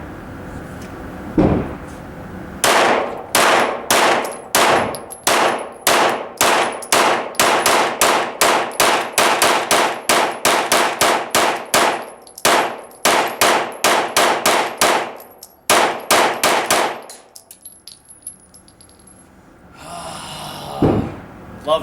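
A short-barrel carbine fires a rapid string of about thirty sharp, loud shots over roughly fifteen seconds, irregular bursts of cracks close by, then quiet with a faint rustle at the end.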